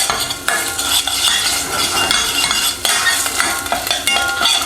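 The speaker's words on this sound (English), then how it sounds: "we're going to give that a little bit of a stirring round in there and cook it in there" Green curry paste stirred and frying in a pan, a steady loud sizzle with scraping and clinks of a utensil against the metal, running continuously without any talk.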